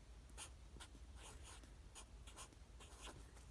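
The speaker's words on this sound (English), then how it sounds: "I'm going to write" Handwriting close up, with faint, quick scratchy strokes of a pen or marker coming in short irregular bursts, quiet and unaccompanied by talk.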